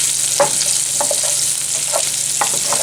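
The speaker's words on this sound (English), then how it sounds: "now it's just the process of letting it brown and come to heat and get good and" Sausage chunks browning in their own fat in a pan, a close, steady sizzle broken by several scraping stirs and small clicks from a utensil.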